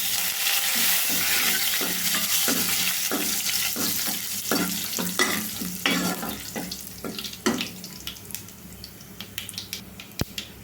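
Tempering for mango dal sizzles in hot oil with asafoetida and curry leaves, a loud crackling hiss that starts dense and then thins into scattered pops and spits, with a spoon scraping the pan near the end. No voice.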